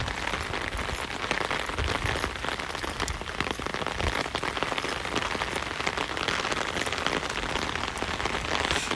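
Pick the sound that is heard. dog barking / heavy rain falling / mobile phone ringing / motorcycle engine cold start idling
heavy rain falling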